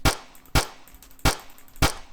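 Four sharp gunshots from Minecraft Java Edition Forge gun mods, evenly spaced about half a second apart, each a crisp loud crack with a short tail and faint background between.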